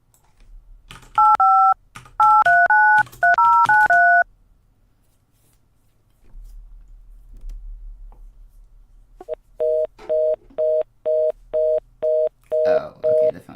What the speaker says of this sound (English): I'll call the Washington number.